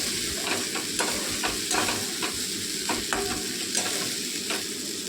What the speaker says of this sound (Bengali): আমি এটা একটুখানি ফুটতে দেবো ঝোলটাকে